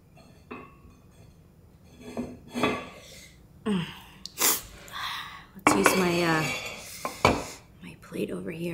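Plates and dishes clatter and clink as they are handled during a casual shrimp ramen meal at home, with several sharp knocks spread over the stretch and a person talking and making small vocal sounds throughout.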